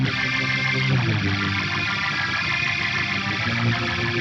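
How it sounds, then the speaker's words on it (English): Rotary speaker effect at stock settings on a Fractal FM3 Mark II Turbo guitar processor, adding a wobbling swirl to a sustained, distorted electric guitar chord that rings loud and steady for a few seconds with no talking. "Would be nice to have some wobble from like a rotary style speaker or something like that"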